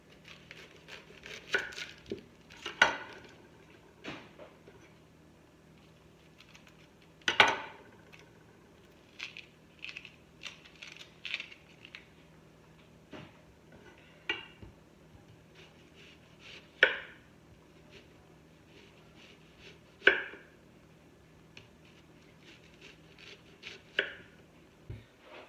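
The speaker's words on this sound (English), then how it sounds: "we're going to start by cutting our onion into rings." A knife chops an onion into rings on a cutting board, a series of sharp, irregular taps spaced a second or more apart against a quiet background.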